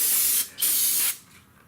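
Two hissing bursts of brake cleaner aerosol spray, close and loud, separated by a brief pause.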